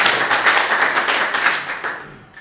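Scattered clapping at an evening speech night, honouring a former British commando and World War II veteran; a broad, steady patter of hands that gradually thins and fades toward the end.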